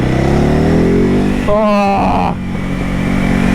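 A 2021 Ducati Hypermotard 950 SP motorcycle engine revs up and drops back, loud and close, with a voice calling out briefly partway through.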